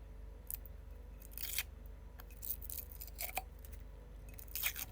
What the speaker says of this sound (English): I'm just gonna pick it up and start peeling off the parchment paper and the sublimation paper.